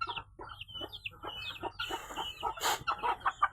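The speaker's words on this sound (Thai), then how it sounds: "มีไก่ลูกไก่ปนตัวหนึ่ง" Chickens on a Thai home farm, a hen with her chicks and a jungle-fowl chick among them, clucking and peeping in quick repeated calls close by, with a busier burst of overlapping calls near the end.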